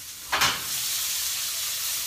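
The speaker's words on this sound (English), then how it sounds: "All right, you guys hear that sizzle? I love the sound of the sizzle." Sausages frying in a pan give a steady, close sizzle throughout, with a brief louder hiss near the start as something hits the hot surface.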